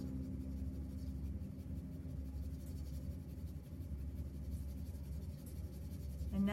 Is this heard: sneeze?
no